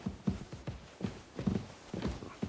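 Horse hooves clip-clopping at a walk in the medieval video game Kingdom Come: Deliverance II, a steady, fairly quiet rhythm of paired hoof strikes on hard ground, with no voices over it.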